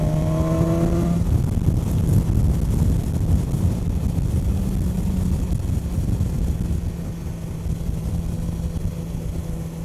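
A 2016 BMW S1000 XR motorcycle engine revs hard with a sharp rising whine at first, then settles into a loud, wind-buffeted roar as the bike rides on, with no talk.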